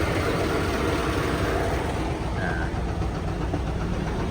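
A Mahakam river taxi boat's engine idles with a steady, dense rumble that stays constant and fairly close, with a brief word spoken over it.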